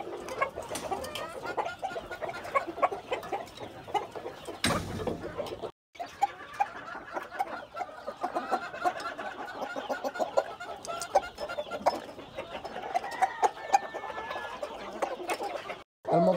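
Chickens and other poultry cluck and chatter steadily up close while being fed azolla taken straight from a water tank, with scattered pecking and occasional louder calls.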